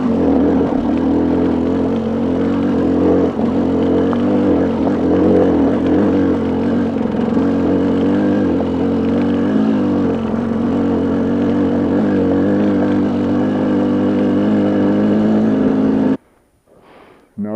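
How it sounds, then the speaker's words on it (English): A Ram truck in four-wheel drive idling up a steep off-camber slope in Colorado, a steady low engine drone that runs loud and constant for about sixteen seconds and then cuts off abruptly. "Just keep it in four-wheel drive, but just to let the ram idle. It just idle right up this with no problem."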